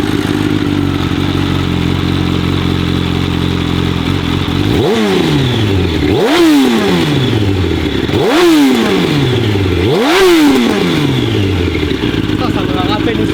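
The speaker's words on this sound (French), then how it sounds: "Démarrage du R1." 2004 Yamaha R1 sport bike with an unbaffled Decata exhaust idles loudly up close, then blips through four sharp revs that rise and fall in quick succession, with voices talking over the engine.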